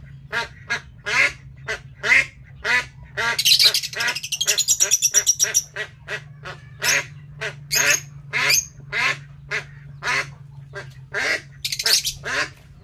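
A duck (itik) being handled quacks and squawks in rapid, loud bursts close by, with a low steady hum underneath and a voice talking at moments.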